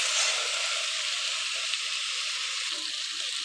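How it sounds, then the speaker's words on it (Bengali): Meat sautés in spice paste with a loud, steady, bright sizzle and a few faint stirring scrapes, close by and without speech. "মাংসটা দিয়ে বেশ ভালো করে কষিয়ে নিতে হবে যতক্ষণ না মশলা তেল ছেড়ে দিচ্ছে"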